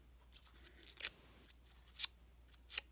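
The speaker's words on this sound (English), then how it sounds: "let's just do one just with the scissors" Scissors snip through a paper craft flower in three or four short, crisp cuts spaced about half a second apart, close and fairly quiet with no talking.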